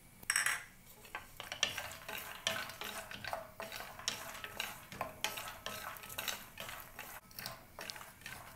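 Almonds for poha chivda roast in a pan, stirred in a quiet, rhythmic run of scraping strokes with light clinks of a spoon against metal and a soft sizzle beneath.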